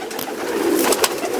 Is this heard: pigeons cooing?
yes